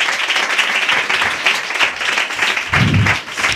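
A church congregation claps hands together during a Sunday worship service, a dense, steady wash of many hands lasting throughout, with a brief low rumble near the end.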